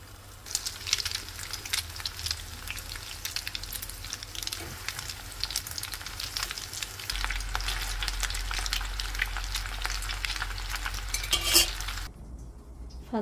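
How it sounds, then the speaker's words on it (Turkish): Egg-coated cauliflower frying in oil in a pan, a dense continuous close sizzle and crackle with a low hum underneath, cutting off abruptly near the end. "Fazla yağ çektirmemeye çalışarak kızarttım."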